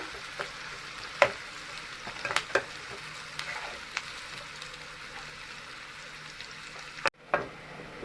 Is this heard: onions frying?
yes